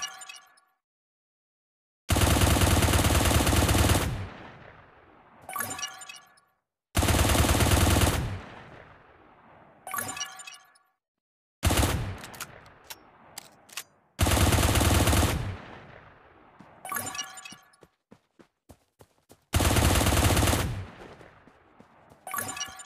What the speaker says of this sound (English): And let's use auto fire again.